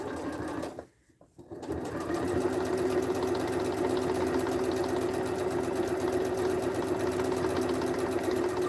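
Sewing machine stitching a handle onto a patchwork duffle bag, running in a steady, loud mechanical whir close by after a brief pause near the start.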